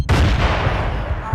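A frag grenade blows up amid gunfire in the Battlefield 2 video game: a sudden loud blast that rolls into a dense, rumbling roar and slowly decays.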